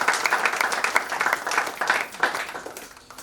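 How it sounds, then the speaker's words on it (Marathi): An audience at the golden jubilee ceremony of St. Joseph's High School, Nandakhal, Vasai, gives dense, lively applause from many hands that stays strong and then tapers off slightly at the end. "आणि म्हणून जोरदार टाळ्या वाजूया सर्वांसाठी व सर्व शिक्षकांसाठी"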